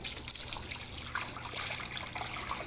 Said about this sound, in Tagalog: Ayun, lumalabas ang tubig.